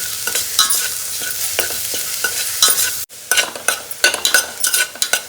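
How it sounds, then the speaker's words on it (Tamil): Cabbage, beans and carrot with salt sauté in a hot pan, a soft continuous sizzle broken by repeated scraping stirs of a spoon, with a brief pause midway before the stirring resumes more vigorously. "முட்டைக்கோஸ், பீன்ஸ், கேரட், உப்பு சேர்த்துக்கலாம். இப்போ இது வந்து ஒரு 2 நிமிஷம் நல்லா வதக்கிக்கலாம்."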